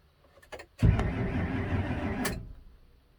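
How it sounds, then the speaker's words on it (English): A 2006 Ford F250 with a 5.4 engine and a no-start fault cranks with a loud whirring grind for about a second and a half, electric fuel pump running, then cuts off, leaving quiet. "Definitely the fuel pump was running after that cranking event for about 1 second"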